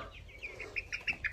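Chickens cluck in a short burst of several quick, close calls rising in intensity, fairly faint against a quiet background.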